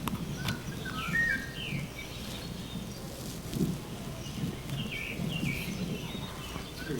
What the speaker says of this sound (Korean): 새소리가 들립니다.